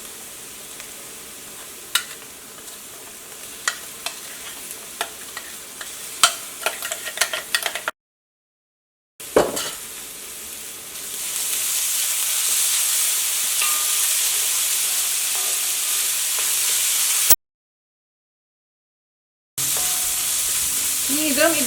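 Ground tomato paste sautéing in a pan gives a crackling sizzle with sharp spatula taps, then a louder steady frying hiss in later stretches, broken by short silent gaps.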